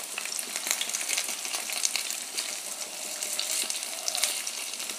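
Rice fara dumplings frying in hot oil give a steady, close crackling sizzle with scattered sharp pops, continuous throughout and without speech.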